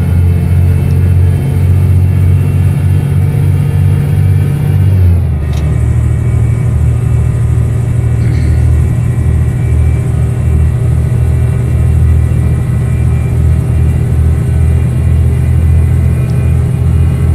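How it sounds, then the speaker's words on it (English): A truck's engine brake in Euro Truck Simulator 2: a loud, steady, low droning engine note holds throughout, with one brief shift in tone partway through and no talking. "I forgot I had the engine brake on this one."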